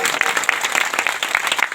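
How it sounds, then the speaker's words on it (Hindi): A crowd at a Sarna community speech claps together, a close, busy patter of many hands that holds steady, with faint voices underneath. "ताली बजा दीजिए"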